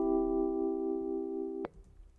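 A buzzy synth tone in Logic Pro X carries a wobble effect at negative 3.8 dB, a gentle, barely pulsing sustained note lasting about a second and a half before stopping abruptly with a click.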